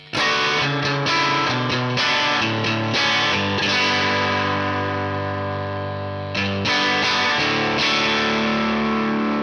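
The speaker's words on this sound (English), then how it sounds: "A really nice drive sound as well." Overdriven electric guitar through a TC Electronic Ampworx amp, bridge pickup, plays a loud, gritty riff of chords and single notes, thick crunchy distortion sustaining throughout with no talking.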